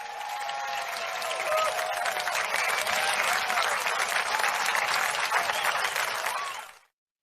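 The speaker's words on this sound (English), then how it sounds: "I love that virtual applause, actually." Virtual applause at an online award ceremony: steady, dense clapping with cheering tones runs evenly for about seven seconds, then cuts off abruptly.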